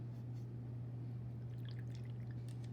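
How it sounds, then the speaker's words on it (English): A paintbrush is rinsed in a cup of water, giving soft, faint dripping and trickling splashes over a steady low electrical hum. "I'm going to rinse my brush out"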